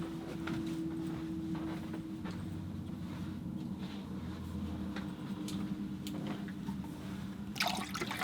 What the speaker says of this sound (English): So I'm just putting water in the water bucket.